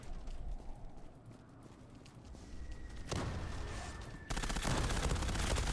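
Rapid pistol fire in the online shooter Zula, dense bursts of quick cracking shots that grow louder and more continuous toward the end.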